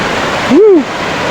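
Water rushes steadily in a constant, fairly loud roar, with a brief rising-and-falling vocal tone passing over it.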